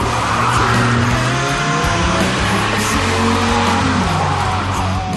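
Drift cars sliding through hairpins at a New Zealand D1NZ drift event, a loud continuous roar of revving engines layered with sustained tire squeal and skidding, close and dense throughout with no talk.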